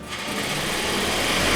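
A sewing machine stitching running stitches along the top of a girl's Regency dress skirt runs in one continuous, close, loud buzzing whir that rises slightly at the start, with no talk.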